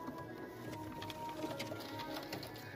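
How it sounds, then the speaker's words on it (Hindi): Punjabi pigeons coo softly and repeatedly in the background, with a steady low hum and faint patter around them. "बड़े ही बिंदास कबूतर हैं"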